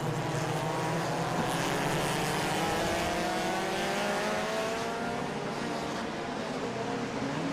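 F1.5 Toyo Tire race cars pulling away at the start of a race at Bira Circuit, Pattaya: a dense, continuous engine roar of many cars together, loud and steady throughout with rising and falling tones layered in.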